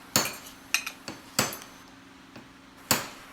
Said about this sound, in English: Now it is time to take a punch and a hammer and see if that rivet has become loose enough to